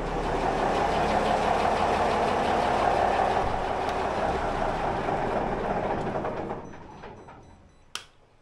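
A boat engine idles with a steady, close rumble, then shuts down and fades out, followed by a single sharp click.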